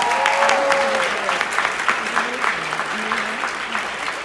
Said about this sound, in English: Round of applause, please, for everybody.